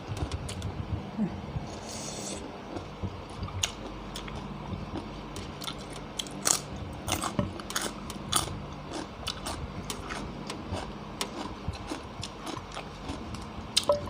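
Shrimp with dipping sauce is eaten up close, with steady wet chewing, crunchy bites and small clicks repeating over a quiet background for a long stretch.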